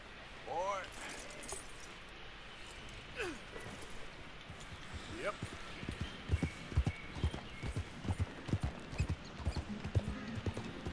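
Horse hooves clip-clopping in the video game Red Dead Redemption 2, a rhythmic run of hoof beats that grows louder and denser toward the end, heard alongside someone talking.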